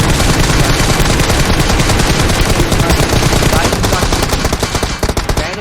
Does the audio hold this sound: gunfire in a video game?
yes